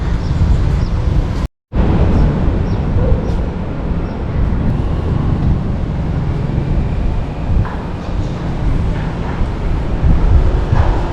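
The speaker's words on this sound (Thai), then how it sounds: "โอ้ลมเย็น" Wind blows across an elevated walkway at a digital business park, a loud continuous buffeting roar against the microphone with one brief cut-out near the start and no talking.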